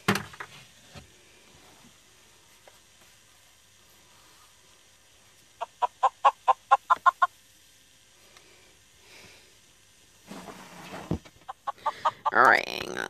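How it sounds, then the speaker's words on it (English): A Minecraft chicken clucks in a quick run of about seven short, bright clucks midway through, surrounded by long quiet stretches, scattered soft knocks and later bursts of handling noise. "I can make a chicken noise in the background."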